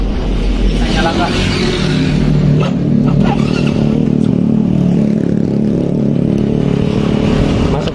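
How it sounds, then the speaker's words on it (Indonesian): A Yamaha X-Ride motorcycle with an unusual fault that dies on throttle runs at idle, a steady close engine rumble with light mechanical clatter, while someone talks over it. "Ini mesin menyala ya."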